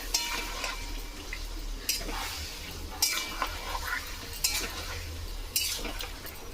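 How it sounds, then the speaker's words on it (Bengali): Chicken pieces for a red chicken curry are stirred in a pan: a spatula scrapes and clinks in irregular strokes over a faint sizzle, fairly quiet and close, with no voices. "এবারে মাংসটাকে ভালো করে নেড়ে নিতে হবে"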